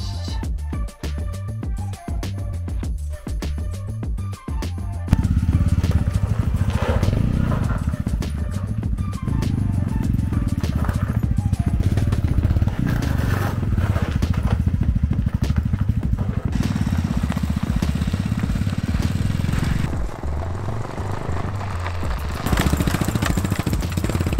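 A small motorcycle engine running on a snowy winter test run, a steady close rumble with a rev rise around the five-second mark, then holding a fairly loud, even drone with slight fluctuations.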